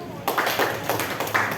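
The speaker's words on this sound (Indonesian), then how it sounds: "Tepuk tangan." Several people clap hands in a short round of applause at an Indonesian school counselling session, a few quick bursts of claps close by with no talking over them.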